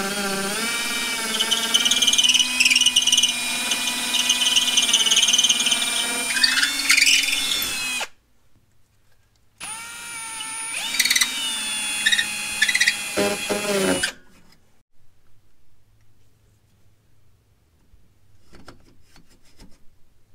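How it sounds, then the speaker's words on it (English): An electric drill bores a hole into a Saturn Sky roadster body, whining loudly in two bursts of about eight and five seconds separated by a short pause, then falling to near silence. "I got the hole drilled in there"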